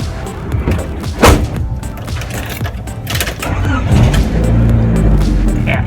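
A 1992 Honda Civic EG engine cranks with a thump and catches, then settles into a low, rumbling run, close by, with some background clatter.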